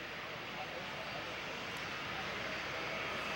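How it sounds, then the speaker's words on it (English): Jet dryers blasting air over a NASCAR racetrack surface, a steady distant roar of jet engines that holds without a break under crowd and broadcast ambience. "You can hear the jet dryers again in the background as they continue to work on this racing surface."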